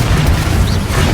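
A short, loud blast of the Confringo fire curse in Hogwarts Legacy, one heavy booming burst that fills the moment up close, with no talk over it.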